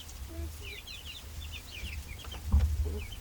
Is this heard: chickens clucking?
yes